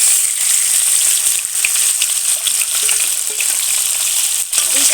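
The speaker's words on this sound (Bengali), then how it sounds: "এবার তেলের মধ্যে মাছগুলো দিয়ে ভেজে নেব" Fish coated in salt and turmeric fries in hot oil, giving a steady, loud, close hiss and crackle that continues without pause and without any voices.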